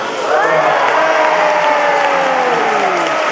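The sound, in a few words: audience applause and cheering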